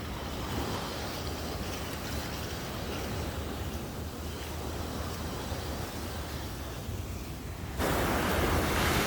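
Ocean waves on a beach, a continuous wash of surf with wind noise, steady and fairly close, getting louder near the end, with no voices.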